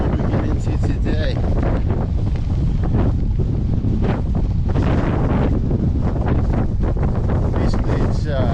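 Strong headwind roars across a microphone on a bicycle touring ride along a highway, a loud continuous buffeting rush with gusty surges from start to finish.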